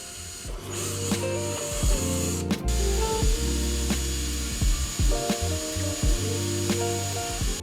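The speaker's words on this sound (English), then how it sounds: "So we're just going to drill the holes into the new bumper." A power drill bores holes into a fiberglass front bumper for an NA Mazda MX-5 Miata, whining in repeated bursts with steady motor tones and short gaps between passes, close and fairly loud.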